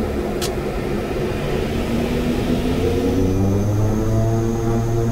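Airliner engines spool up to takeoff power on a flight from KRF to ARN, a steady loud cockpit roar with rising tonal whine and propeller-like harmonic drone throughout.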